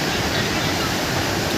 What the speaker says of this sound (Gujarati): એના પાણીનો ધોધ